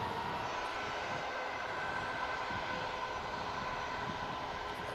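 A Corendon airliner taking off at Manchester Airport gives a steady, fairly faint broadband jet roar heard from a distance, without talk.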